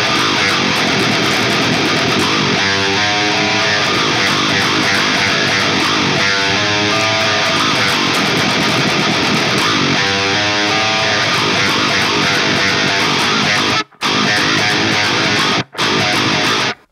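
Dense, heavily distorted metal guitar playing a transition riff with repeated string bends amid a full band wash, loud and close, ending in short choppy stops, with no voices.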